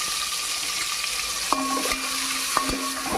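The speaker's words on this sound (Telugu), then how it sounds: "ఉల్లిపాయ ముక్కలు, పచ్చిమిరకాయలు వేసుకున్నాం" Sliced onions and green chilies fry steadily in hot oil with whole biryani spices, giving a loud continuous sizzle with a couple of sharp metal spatula clinks against the pan.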